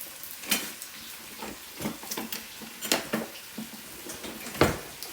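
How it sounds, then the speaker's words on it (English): A spoon stirs chili in a pot, with soft scraping and clinking strokes repeating at an uneven pace, quiet and close, with no voices. "I'm gonna get a spoon to stir this"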